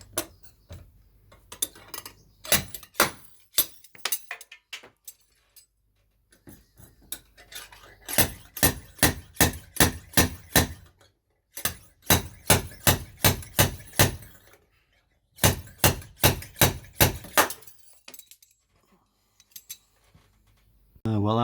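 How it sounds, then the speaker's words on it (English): Sharp metallic clacks strike in rapid bursts of several blows each, separated by short pauses, loud and close as a slide hammer works at a dent in a Range Rover L322 roof panel. "we're gonna have a go with the slide hammer to see if we can get this little dent out here"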